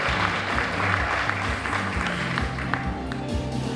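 An audience applauds a teacher at a teacher-of-the-year celebration, a steady round of clapping carried under a low pulsing rhythmic background that thumps beneath the hands.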